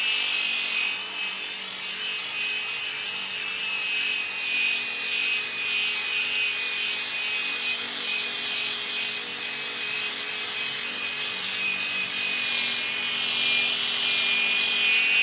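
Power polishing tool buffing wet-sanded black single-stage car paint to a show finish, a loud continuous whirring hum with a steady whine, running unbroken and close with no talk.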